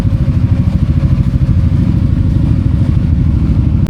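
Loud, rumbling motorcycle engines chug steadily nearby, a constant low throbbing with no talking over it.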